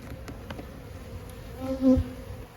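Honeybees buzz around a spring hive frame on a still day, a steady low hum that swells briefly near the end, close and alone.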